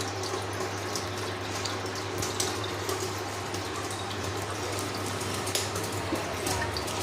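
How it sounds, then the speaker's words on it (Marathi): Water pours and splashes over freshly churned butter being washed by hand in a vessel, a steady trickling, gurgling flow with occasional soft splashes, close and unbroken throughout. "2-3 वेळेस असं पाणी टाकताय."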